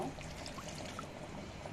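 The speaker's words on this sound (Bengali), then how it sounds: "এখন আমি একটু পানি দিয়ে কষিয়ে নেব।" Water is poured into a pan of spices frying in oil with chili and turmeric, a faint, brief pour over a low kitchen background.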